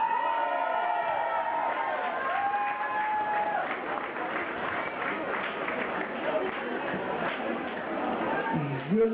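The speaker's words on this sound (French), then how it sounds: "Je vous demande un tonnerre d'applaudissements pour Michel Loissy et Thierry Simon" Carnival audience in Martelange giving a thunderous round of applause for the organizers, dense continuous clapping and cheering that holds steady, a voice breaking in near the end.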